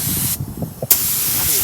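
An automotive spray gun lays epoxy primer onto the cab of a 1974 Ford F250 under restoration, with loud close hissing bursts cut by a short pause before the spray resumes.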